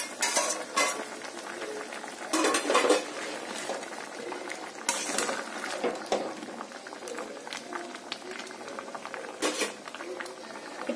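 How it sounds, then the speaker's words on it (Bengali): Curry gravy bubbling hard in a pan after fried prawns and slit green chillies go in, a pumpkin and potato prawn curry; steady close boiling with spoon scrapes and stirring bursts throughout. "মিনিট খানেকের মধ্যেই ঝোলটা খুব সুন্দর টকবক ফুটতে শুরু করেছে।"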